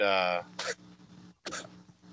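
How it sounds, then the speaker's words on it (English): Two short, harsh coughing or hacking bursts with a pause between, following a brief voiced sound, fairly close. "Your cat's coughing."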